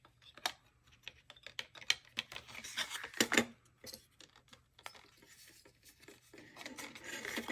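Burnishing faux metallic book covers by hand, a quiet series of dry, rasping rubs and scrapes in short irregular strokes, close up with no talking.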